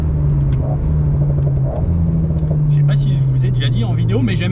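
Renault car engine droning and revving as it drives on a race track, heard from inside with a steady mid-pitched hum that shifts as the car accelerates, under continuous conversation between occupants.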